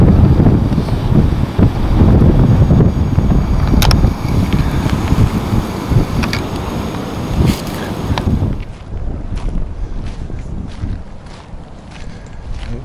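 A cool wind gusts outdoors by chilly water, buffeting the microphone with loud rumbling bursts that ease off and thin out toward the end.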